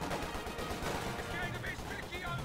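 Continuous battlefield din from Company of Heroes 2, with artillery barrages and gunfire rumbling and crackling steadily throughout at moderate loudness, dense and unbroken with no clear gaps.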